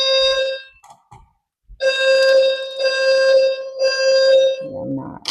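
Loud, close blasts from a fire alarm keep repeating as steady harmonic tones with short gaps between them, and a voice briefly comes in at the end.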